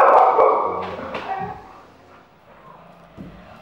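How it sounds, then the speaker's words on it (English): Dogs indoors give a loud whining, yelping bark at the start, then a few fainter whimpers and yips that fade into near quiet. "before I got rudely interrupted by the dogs"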